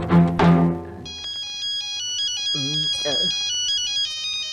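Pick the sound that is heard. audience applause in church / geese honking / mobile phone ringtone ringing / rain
mobile phone ringtone ringing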